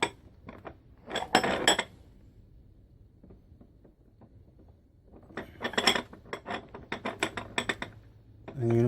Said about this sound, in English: You're going to pull these pins back